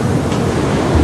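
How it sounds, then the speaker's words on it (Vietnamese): Tsunami waves crash as a sound effect in a Vietnamese children's TV series, a loud, continuous roaring surge of water and wind with no break. "Có sóng thần thiệt anh ơi."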